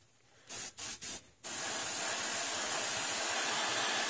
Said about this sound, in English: load it into the airbrush,